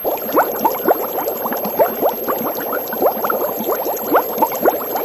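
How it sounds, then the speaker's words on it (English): Vigorous bubbling and gurgling of boiling water, standing in for a river surface boiling from intense fire heat, with dense rapid pops and bursts in a loud, continuous churn. "the surface of the river itself began to boil."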